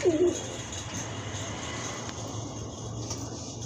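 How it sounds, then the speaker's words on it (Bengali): A pair of Shahranpuri high flyer pigeons of Pakistani blood make one short, soft coo near the start, then low background hum. "এক জোড়া হাই ফ্লায়ার শাহরানপুরি কবুতর, শাহরানপুরি পাকিস্তানি ব্লাডের উড়ানোর কবুতর"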